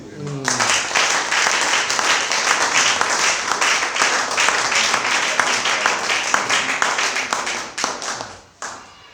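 Audience applause during a church sermon, brisk and loud with individual claps audible in the mass. It holds steady for most of the stretch, then thins and fades out near the end.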